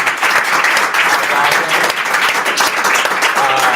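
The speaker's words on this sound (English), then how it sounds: "let's give our panel a huge round of applause" Applause for a panel at a crypto regulation and legal outlook event rings out as a steady, dense wash of clapping from a sizable audience, loud and sustained throughout.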